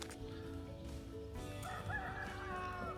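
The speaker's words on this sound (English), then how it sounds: "Get the roosters going." Roosters crow faintly in the distance on a morning in Italy near horses being exercised, a drawn-out call rising over a steady low outdoor rumble.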